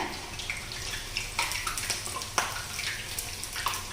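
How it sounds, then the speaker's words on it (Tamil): Ragi thattai discs of finger-millet dough slipped into hot oil to fry; busy bubbling and crackling sizzle close by, with irregular pops over a steady wash of noise. "இன்னொரு செட்டு இப்போ அடுத்ததான் எண்ணெய்க்குள்ளே விடுறோம்"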